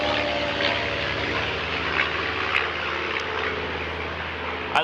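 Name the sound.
small propeller plane flying overhead near rural island airport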